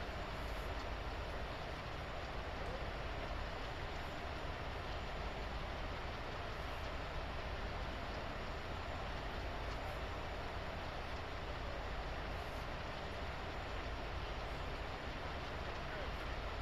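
Train rolling along in a train simulator at Sherman Hill, a steady low continuous rumble with a faint rhythmic rail clatter, unchanging throughout, under a speaking voice.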